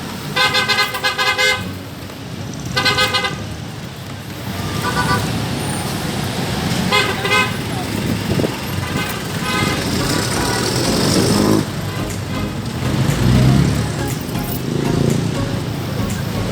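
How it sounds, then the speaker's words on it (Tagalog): Busy downtown street traffic in Iloilo City rumbles steadily, with repeated horn toots, passing cars and heavier vehicles close by, and a voice talking over the traffic at times. "So this is actually a very busy street even at this time."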